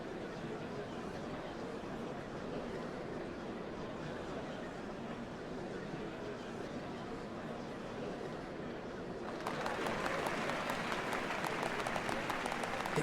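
A large crowd applauds at an inauguration ceremony in the video game Final Fantasy XIV Dawntrail, a steady dense wash of clapping that swells louder and sharper toward the end.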